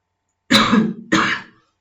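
A person with a persistent cough gives two harsh, close coughing bursts in quick succession, throaty like clearing the throat, with silence around them and no talk.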